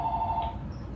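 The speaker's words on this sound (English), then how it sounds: "Why is a landline ringing?" A landline telephone rings in a short electronic trill for about half a second, then stops, leaving quiet room tone behind it.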